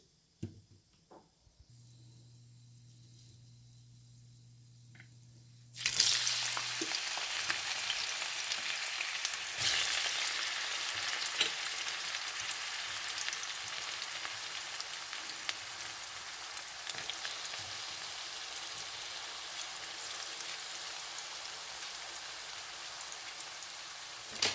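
Onions drop into hot oil with whole dry spices in a pot and begin frying, a steady dense sizzle with occasional stirring scrapes, loud and close after a quiet low hum at the start.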